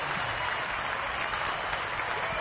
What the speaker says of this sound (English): Golf clap for the laborers.